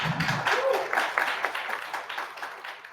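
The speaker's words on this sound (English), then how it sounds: "can I get a round of applause for all of our presenters?" An audience applauds presenters at an immersive technology industry event in Chicago, a dense steady wash of many hands clapping that holds for the whole stretch with a faint voice near the start.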